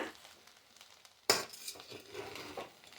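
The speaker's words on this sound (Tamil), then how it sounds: "இப்போ மறுபடியும் இதை சேர்த்துட்டு நல்லா வந்து மிக்ஸ் பண்ணி கொடுங்க" Potato and pea rice being stirred in a pan, with soft scraping and clinking of a metal spoon, one sharp clink partway through, fairly faint and without voices.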